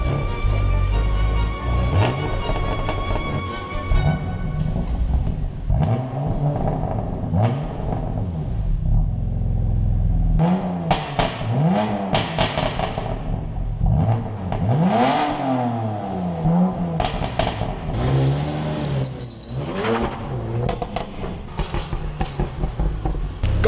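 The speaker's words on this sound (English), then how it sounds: "Let's get the car down, start it up, and see how it sounds." A crash-repaired BMW M2 Competition swapped to a B58 engine starts and revs loudly and close by, rising and falling through several throttle blips after a deep idle rumble.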